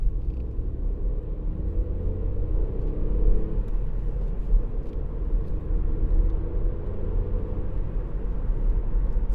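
A 2018 Ford Fiesta's 1.0-litre turbo EcoBoost engine drones steadily from inside the cabin while driving, a low rumbling hum with slight rises in revs, no talking.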